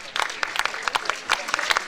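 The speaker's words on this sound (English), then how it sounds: "Carwyn Jones and his deputy Ieuan Wyn Jones soaked up the applause" Steady applause from a crowd after the 2011 Welsh referendum result, many hands clapping in a dense, continuous patter with scattered louder claps throughout.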